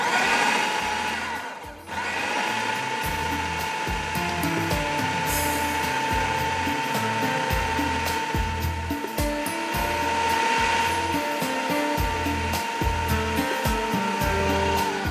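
Electric kitchen chopper grinding a chicken methi kabab mixture, a loud steady whirring motor running in pulses of varying pitch, close and alone for about fifteen seconds.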